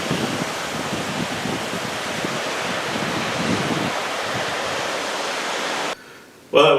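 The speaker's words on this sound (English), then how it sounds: "Listen to those waves." Steady rushing ocean surf at sunset in Jamesville, Virginia fills most of the stretch as a continuous close wash, then cuts away abruptly into a brief quieter moment before a short loud burst.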